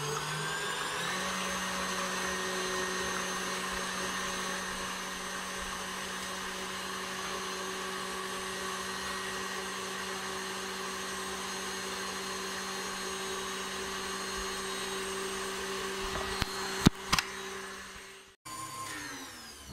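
A steady electric mixer drones continuously at close range while whipping egg whites with a pinch of salt until stiff for a chocolate mousse, a long unbroken whine that stops abruptly near the end after a couple of brief knocks.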